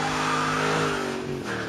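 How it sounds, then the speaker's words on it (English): A 2008 Ford Mustang Bullitt with a 4.6-liter V8 sounds a loud, sustained exhaust note close by, its pitch holding steady as the engine runs hard, with a faint tire squeal in the mix. "The Bullitt counters with a potent V8 and hair-raising exhaust note of its own."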